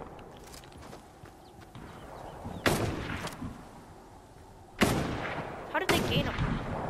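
Gunfire in the Fortnite video game, a few distant bursts of shots separated by quieter stretches of ambient game sound.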